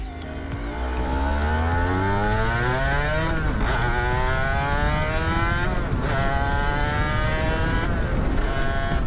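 An Aprilia RS 125 two-stroke Italian motorcycle is ridden hard, its engine revving up and down through repeated climbs in pitch as it works through the gears, loud and close throughout with no talk.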